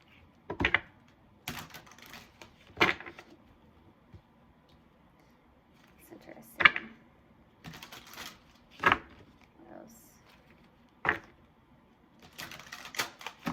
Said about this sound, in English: now let's pull an oracle card